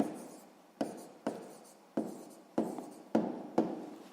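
A pen or pencil writes by hand during a sixth-grade math lesson, making six quiet, evenly spaced strokes that each start sharply and fade, alone with no talk.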